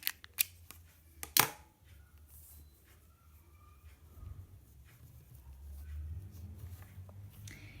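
Scissors snip off excess cord on a handmade fabric toiletry pouch, a few crisp close cuts early on, then quiet handling noise.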